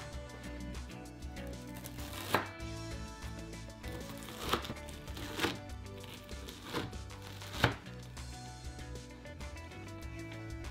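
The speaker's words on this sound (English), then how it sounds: "It's really sticky, so you can't just pull the shapes out. Use a knife to cut it up." A knife cuts through a sticky slab of Rice Krispie treats on a board, giving quiet soft sticky sounds broken by five or six sharp taps spaced a second or two apart.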